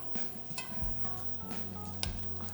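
Butter and sage sizzle steadily in a pan, a close, quiet, continuous frying crackle with light scrapes and clinks of stirring, prepared for spinach and ricotta gnudi.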